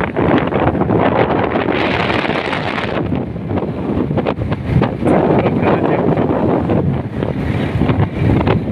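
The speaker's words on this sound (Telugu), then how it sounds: "చల్లటి వాతావరణంలో బైక్ పై ప్రయాణం." Strong, continuous wind buffeting roars across the whole stretch, like rushing air while riding a motorbike at speed in cool weather, with no voices.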